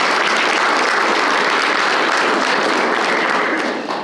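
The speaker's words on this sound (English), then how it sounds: "I guess we'll give them a round of applause" A room full of guests at a university history department's student recognition ceremony applauds, sustained dense clapping holding at full strength for about four seconds before tapering off.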